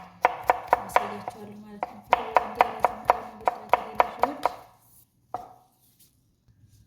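A knife chops salt-soaked cucumber for a salad on a cutting board: a quick run of about six sharp, close strikes, a short pause, then another brisk run of about seven, followed by one last lone chop.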